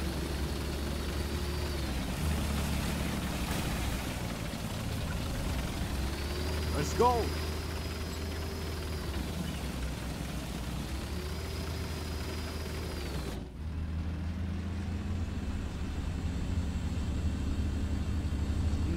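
M60A1 tank engine in War Thunder, a steady loud mechanical rumble and drone running throughout with slight rises in pitch, briefly cutting to a muffled interior tone near the end, while someone talks over it.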